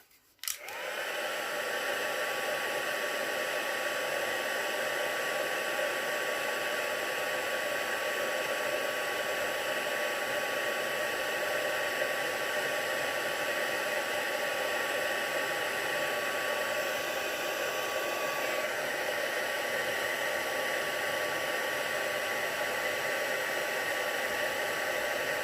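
A heat tool used for embossing a handmade card blows with a steady, loud whooshing roar that switches on with a click and runs unbroken and close throughout.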